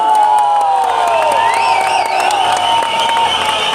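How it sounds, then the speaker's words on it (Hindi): Loud applause and cheering from a large audience at an IMC business event, dense clapping mixed with whoops and a whistle-like tone rising over the crowd noise. "एक बार तालियां जोरदार"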